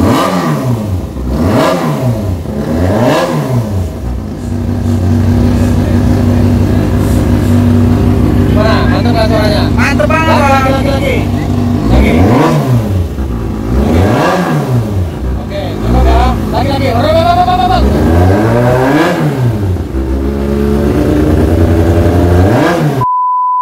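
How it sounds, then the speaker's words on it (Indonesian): A loud four-cylinder motorcycle engine revs repeatedly in rising and falling surges, with a steady idle hum between throttle blips and a brief beeping tone midway. "Oh, suara motor ini 4 silinder."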